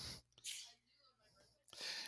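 A single sharp sneeze bursts out near the start, followed by quiet breathing and a second loud burst near the end, in a quiet classroom setting.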